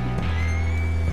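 A horse in the video game Red Dead Redemption 2 gives a brief, loud, sustained whinny over a steady low hum, filling the short moment.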